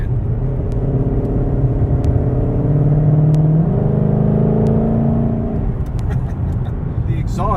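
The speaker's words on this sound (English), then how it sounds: "The exhaust, even in sport mode, it doesn't drone, it doesn't boom" A 2020 Shelby GT500 drives along with its engine and exhaust in sport mode, producing a smooth, steady low drone that shifts pitch slightly midway, with a faint knock or two over the continuous cabin rumble.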